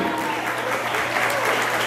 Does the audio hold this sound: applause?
yes